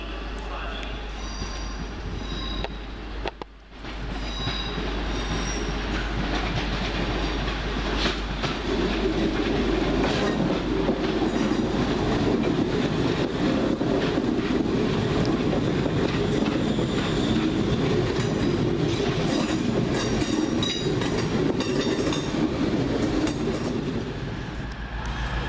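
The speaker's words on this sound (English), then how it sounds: "welcome the 12:20 London Midland service from Birmingham New Street to Liverpool Lime Street via Crewe" A London Midland passenger train runs through Wolverhampton station on a service from Birmingham New Street to Liverpool Lime Street, its steady loud rumble and wheel clatter continuing throughout, with a brief dip near the start.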